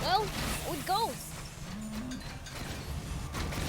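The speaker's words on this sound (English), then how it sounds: "I can hear a cow somewhere." A cow moos twice in quick succession, rising and falling calls at a moderate distance, followed by a quieter stretch with a brief creaking tone and low background rumble.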